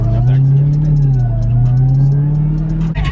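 A 2019 Dodge Challenger Widebody Hellcat Redeye drives with a deep, steady engine drone that rises and falls slightly in pitch, heard from inside the car while people talk over it.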